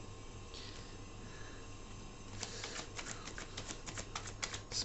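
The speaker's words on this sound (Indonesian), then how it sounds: "di sini aku langsung shuffle saja kartunya" A deck of cards is shuffled close by in a quiet room, starting with soft rustles and then a run of quick crisp riffling flutters and snaps.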